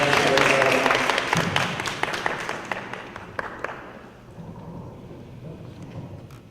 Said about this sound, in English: Can we give these women an organizer a round of applause?